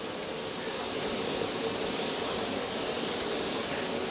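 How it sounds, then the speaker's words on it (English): A paint spray gun hisses steadily as it coats wood trim, a continuous loud, broadband airy rush that holds at an even level for about four seconds without pause or voices. "So let's go ahead and spray."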